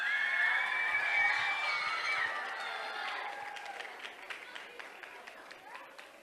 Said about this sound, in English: Let's give a big round of applause to class of 2029